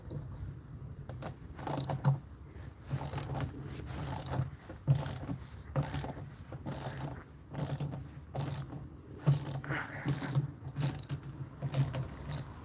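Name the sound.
ratchet removing washing machine drum weight screws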